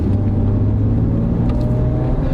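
A six-cylinder truck pulls away from a stop, its engine a loud, steady, close rumble that stays even throughout.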